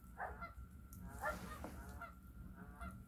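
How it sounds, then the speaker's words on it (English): Several geese honk back and forth outdoors during a dog walk, a few loud nasal calls in short bursts, fairly close, with no talking. "I think the geese are definitely replying back"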